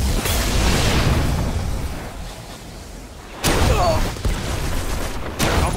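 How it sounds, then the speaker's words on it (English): Loud, heavy gunfire from the Golden Gun in the video game Destiny, a sustained booming volley that fades, then two sharp blasts later, all dense and close. "I get that extra golden gun shot"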